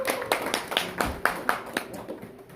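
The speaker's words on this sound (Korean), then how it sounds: "박수 한번 드리고" Small audience at a Korean land-investment lecture giving a short round of applause; a sparse, uneven scattering of distinct hand claps from a few people close by.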